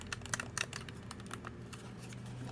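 Buttons on a Sony PlayStation DualSense wireless controller clicking rapidly and irregularly, close up, a dense patter of small taps over a low hum.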